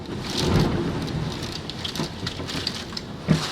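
Thunder rumbles twice during Hurricane Matthew in a residential neighborhood: a low boom near the start and another at the end, both under loud, continuous heavy rain, with no voices.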